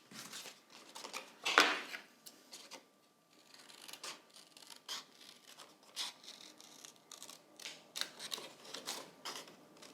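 Scissors snip and rub through paper while cutting out a leaf shape, a close burst of crisp cutting near the start, then a series of softer, intermittent snips and rustles, with no talking.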